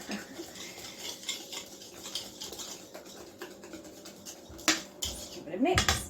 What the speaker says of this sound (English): I'm going to give that a little whisk